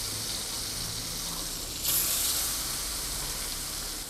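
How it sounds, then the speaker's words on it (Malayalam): Stuffed mussel snack, Thalasseri style, frying in hot oil, giving a steady close sizzle with a brief louder hiss surge partway through. "അപ്പോൾ ഇത് എണ്ണയിലിട്ട് ഇതാ ഫ്രൈ ആകാൻ പോകുന്നു"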